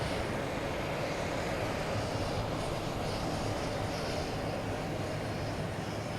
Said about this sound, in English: So we got another JetBlue backing up over here.